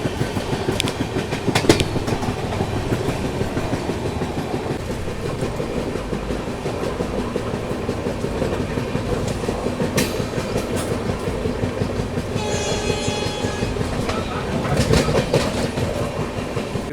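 The 16545 Yesvantpur–Sindhanur Express with LHB coaches rolls along, giving a steady rumble with rhythmic clickety-clack of the wheels and brief squeals. The sound is close and continuous throughout, with no talking.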